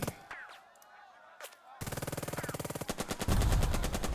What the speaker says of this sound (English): And then tank round of shooting number 3.